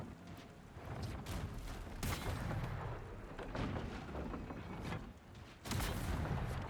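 Cannon fire in a video game pounds a ship with cannonballs: loud, heavy booms land in bursts over a continuous rumbling battle din, with a sharp jump in loudness near the end.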